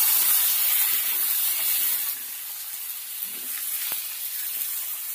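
Eggplant and cut stalks hissing in a hot pan, a loud steamy sizzle at first that settles lower, with a faint scrape of stirring partway through.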